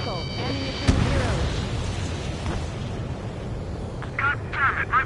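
Explosions and missile impacts in a combat video game, with a heavy boom near the start over a dense rumbling battle bed and bursts of warning tones toward the end, with a voice talking over it.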